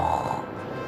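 A single drawn-out snoring snort, a voice imitating a wolf's snore, low and rasping.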